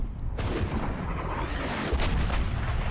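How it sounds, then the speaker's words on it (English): Nebelwerfer rockets and heavy artillery striking in the Panzer Battles Normandy wargame, a dense rumbling barrage of booms that thickens into a louder crashing impact partway through. "Both Nurgle Werfers and heavy artillery striking those guys."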